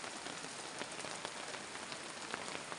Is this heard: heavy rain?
yes